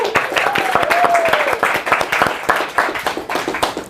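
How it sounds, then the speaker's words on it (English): A small group of people clap briefly during a live business activity call, their claps loose and uneven, with a faint voice or tone sliding through early on. "We should clap for that."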